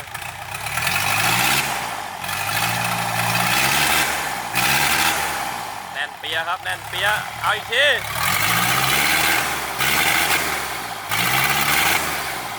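A Hino W04D 120-horsepower diesel engine rumbles and revs up in repeated surges, loud and close, with someone talking over it.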